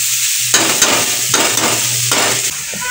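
Vegetable bhaji sizzles steadily in a pan on a home stove while a spoon stirs it in three scraping bursts, the hiss loud and close throughout.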